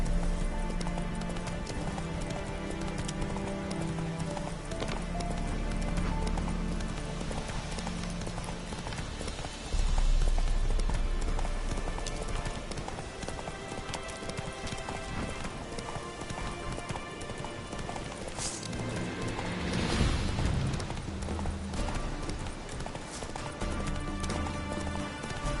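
Roach, Geralt's horse in The Witcher 3: Hearts of Stone, gallops with a steady rapid clip-clop of hooves over a continuous game ambience, nearby and sustained throughout.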